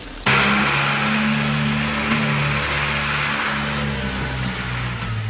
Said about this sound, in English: That sounds like my lorry.